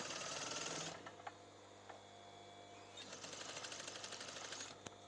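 A domestic sewing machine stitching elastic down the centre of a bath-towel wash mitten, a steady, moderately quiet whirring run that pauses briefly and then resumes, with no voices.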